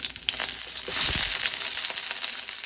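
Sliced onions go into a pan after the garlic has browned, and they fry with a loud, steady sizzle and crackle that fills the whole moment.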